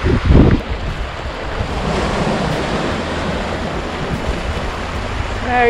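Ocean waves of the incoming tide wash among rocks on a beach at the Bay of Fires, a steady broad surf roar with wind buffeting the microphone and a brief louder rumble at the start.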